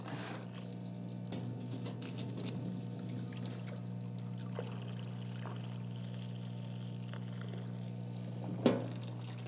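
A powerful stream of a half-water mix pours steadily into a container in a workshop, a continuous close splashing rush under a low electrical hum, ending with a brief knock.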